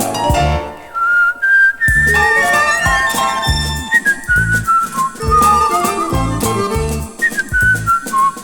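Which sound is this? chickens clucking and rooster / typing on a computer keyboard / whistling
whistling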